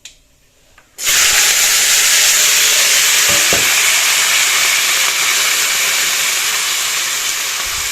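A potato vegetable curry goes into a hot pan and starts cooking, a sudden loud sizzle that settles into a steady, close hiss of frying, with a couple of faint knocks partway through and no talk.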